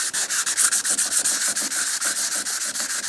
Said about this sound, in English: you always want to scuff your area up